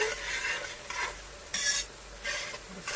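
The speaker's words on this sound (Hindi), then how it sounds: "अब मैं इसमें ऐड करूँगी रेड चिली पाउडर। थोड़ा सा मिक्स करूँगी।" Fried pinkish onions with red chili powder stirred in oil, a bright sizzle broken by a few swishing stirring strokes, one louder burst near the middle, close and clear with no talk.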